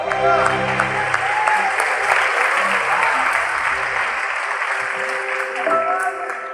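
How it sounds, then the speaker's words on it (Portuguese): A church congregation at a Sunday Easter service applauds the Lord, a thick continuous wash of many hands clapping together, with speech and voices mingled in before the clapping thins near the end. "Podemos aplaudir o Senhor?"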